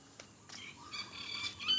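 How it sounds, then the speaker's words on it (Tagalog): Morning birds squawk and chirp in short scattered calls in an outdoor residential setting, with a couple of louder bursts over steady background hiss. "Magkikinig tayo ng huni-huni ng ibon."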